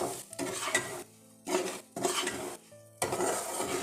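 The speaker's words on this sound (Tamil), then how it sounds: "தீயை கம்மியாக வச்சு ரவையை வறுத்துக்கலாம்" Semolina stirred and roasted in ghee in a pan over low heat for Chettinad ukkarai sweet, with utensil scraping and stirring in three bursts separated by short pauses, close and fairly quiet with no talk.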